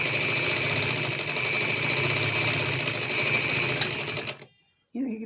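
A sewing machine stitches a salwar with a steady, loud mechanical whir that runs continuously, then stops abruptly, followed by a brief faint sound after the silence.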